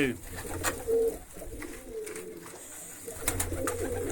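Pigeons coo in low, rolling calls at a rooftop loft in bad weather, with a person speaking intermittently nearby and a steady outdoor background.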